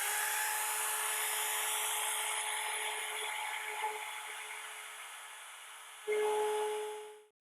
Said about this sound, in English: I like to set the router completely inside and center it in the hole.